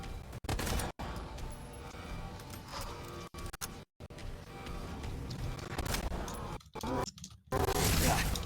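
Gunfire rattles through Resident Evil 2 Remake, dense repeated shots and loud impacts packed close together, broken by a few abrupt silent gaps and a burst near the end.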